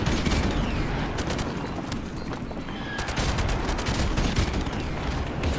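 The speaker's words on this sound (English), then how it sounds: "Friendly airstrike on the way." Airstrike in Modern Warfare Remastered: a dense, continuous barrage of booming explosions and rapid gunfire, loud and sustained, with a brief sharper burst partway through.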